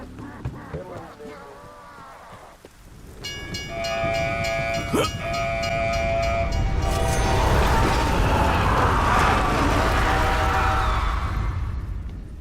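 A train passes in the video game DayZ. A rumble builds into loud, close clattering wagons, punctuated by a blaring horn blast in the middle, then a sustained roaring pass-by.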